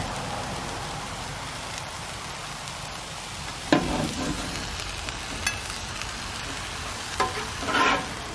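Steak and onions frying in a pan for a cheesesteak give a steady, close, crackling sizzle, with a few sharper spatula scrapes and clatters toward the end.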